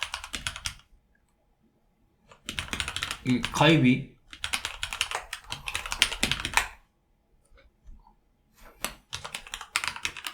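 Fast clattering keystrokes on a computer keyboard, typed in bursts with short pauses while entering a login ID on a Docker Hub sign-in page, close by, with a quiet voice speaking briefly among the taps.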